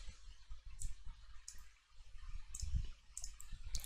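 Keys clicking in quick, irregular bursts as commands are typed on a keyboard while configuring a network router interface, with a low background hum and no talking.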